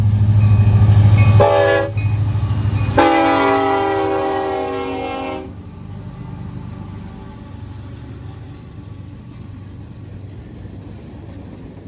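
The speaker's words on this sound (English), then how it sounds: "Heading west is 179, led by a Union Pacific SD-70 Ace and the Central of Georgia Heritage Unit number 8101 in the second position." A westbound freight train led by a Union Pacific SD70ACE locomotive sounds a loud, sustained horn blast in two bursts. Heavy rumbling follows and fades into the steady roll of passing cars.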